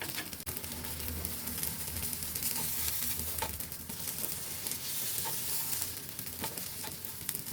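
A moong dal pizza cooks over a low gas flame, giving a soft, even sizzle that holds steady throughout without speech.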